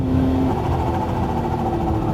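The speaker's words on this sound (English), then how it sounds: "listen to that supercharger chatter" A supercharged Porsche 911 engine roars steadily under hard acceleration, with a dense supercharger chatter and whine running throughout, loud and close.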